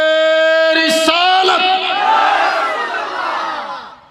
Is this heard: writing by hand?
no